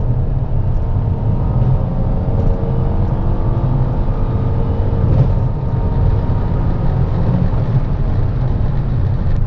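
A Ford Taurus SHO engine accelerating at 80% throttle, a loud, steady, rising drone heard from inside the car, with a strong low rumble and no talk.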